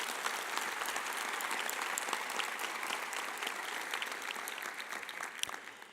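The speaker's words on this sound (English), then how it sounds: "Let's give them some applause." A large commencement audience at a dental medicine graduation applauds steadily for graduates' families, a dense, continuous roar of clapping that holds for several seconds and fades slightly at the end.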